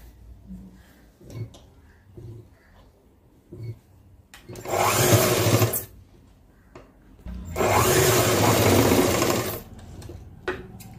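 A sewing machine stitches cloth in two sustained loud bursts of rapid mechanical whirring, with quieter handling sounds and brief pauses between runs.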